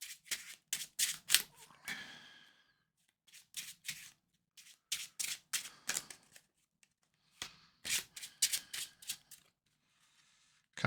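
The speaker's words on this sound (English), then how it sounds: "Shuffle the encounter deck." Encounter deck of cards for a Marvel Champions game being shuffled by hand, several quick bursts of crisp riffling flutters separated by short pauses, close and clear with no talking.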